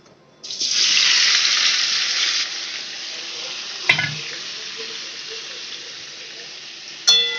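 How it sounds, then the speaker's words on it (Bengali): Boiled potatoes drop into hot ghee and set off a loud burst of close sizzling that settles into a quieter steady fry, with a couple of sharp clanks of a utensil. "ঘি গরম হয়ে গেছে আমি সেদ্ধ করে সেদ্ধ করা আলুটা দিয়ে দিচ্ছি"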